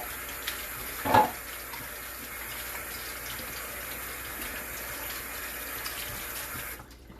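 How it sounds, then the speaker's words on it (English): Hands being rinsed under a running kitchen tap while making bacon, biscuits and gravy: a steady, soft stream of water runs throughout, with one brief splash near the start, before it cuts off at the end. "Let me wash my hand."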